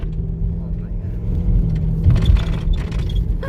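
A Ford Mustang GT 5.0 with about 40,000 miles rumbles steadily over potholed road, a low continuous engine and road drone with bumps and rattles thickening toward the end.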